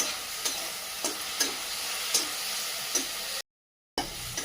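Ground paste of mint, coriander and one green chilli sautéing in a pan, with a steady sizzle and regular stirring scrapes about every half second, close and moderately loud, cut by a brief silent gap near the end.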